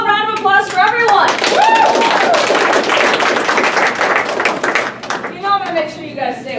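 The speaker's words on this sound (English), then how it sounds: "round of applause for everyone" Clapping from a Pokémon convention crowd at Toracon 2019, a dense round of applause spreading through the room while voices call out and talk over it, tapering off toward the end.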